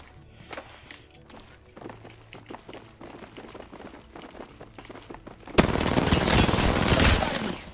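Video game gunfire crackles in scattered single shots and short bursts over footstep-like clatter, then erupts into a loud, dense volley of rapid fire for the final couple of seconds.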